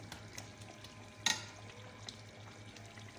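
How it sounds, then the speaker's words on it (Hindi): Chicken karahi cooking over a high flame in a large pot for thirty people, a low steady sizzle with occasional stirring scrapes and one sharp metallic clank, no voices. "अब हम इसको तेज़ आंच पे 5 मिनट तक पकाएंगे।"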